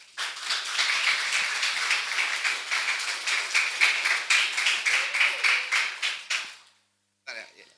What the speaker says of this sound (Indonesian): Kasih tepuk tangannya dulu dong.